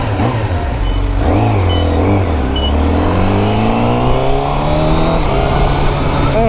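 Honda CBR1000RR-R Fireblade SP sport bike engine, loud and close, revving up and down with rising and falling pitch as the throttle opens and closes, no talk over it.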